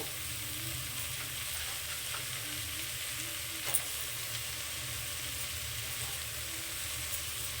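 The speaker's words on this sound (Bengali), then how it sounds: "মেথির শাকগুলো আমি ছোটো ছোটো করে কেটে রেখেছি তো সেই মেথির শাকটা দিয়ে দিচ্ছি" Chopped fenugreek leaves hit hot oil for methi pulao, giving a steady, even sizzle and frying hiss throughout, with one small click midway and no voices.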